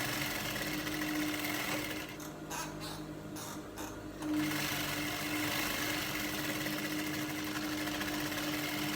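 A sewing machine runs steadily, double stitching the crotch seam of wrap palazzo trousers, a continuous mechanical whir with a brief slowdown of stuttering bursts in the middle before resuming at full speed.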